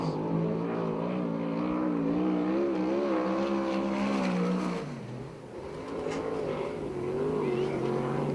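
Sprint cars in USAC/CRA competition lapping Perris Auto Speedway, a Cadillac-sponsored car among them; a loud, steady high-pitched engine drone rises and falls with throttle, dipping briefly midway before surging back.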